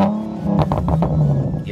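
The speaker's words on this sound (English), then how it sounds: "you just get this amazing pop and crackle coming from the exhaust" Nissan 370Z NISMO sports car with a pops-and-bangs exhaust map, engine revving under acceleration and then backing off, with irregular pops and crackles from the exhaust; loud and close, no talking.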